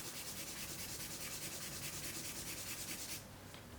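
Vine charcoal scratching across drawing paper in a steady, rough, close-up rubbing texture with rhythmic back-and-forth strokes that ease off near the end, no voices.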